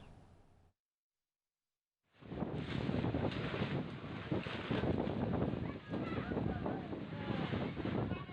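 Strong wind gusting over a polling station tent in Moncongloe village, Maros, South Sulawesi. A dense, roaring rush of wind buffets the microphone after a brief dropout and stays loud and continuous.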